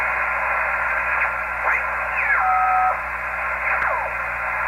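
A repaired and cleaned-up Kenwood TS-130S ham radio tuned to the 20-meter band at night hisses with steady static, broken by a few brief sweeping tones and warbling whistles as the dial moves.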